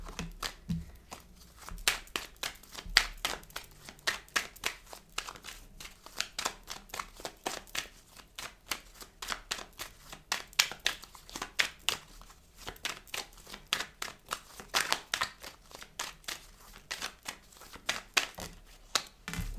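Oracle cards being shuffled by hand, a soft, quiet, irregular run of riffles and flicks close up, with no voices.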